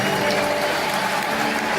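A church congregation claps in dense, sustained applause, a steady wash of many hands heard close and loud for the whole moment.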